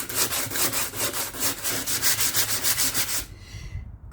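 A cargo van's surface being sanded by hand, close and loud, with rapid regular back-and-forth scrubbing strokes, about a dozen in quick rhythm, ending abruptly into near quiet.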